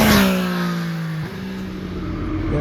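A 2021 Triumph Street Triple 765 RS roadster with a Euro 5 exhaust, engine note sliding steadily downward in pitch as it decelerates, with a brief dip midway before settling into a steady hum, close and fairly loud, no voices.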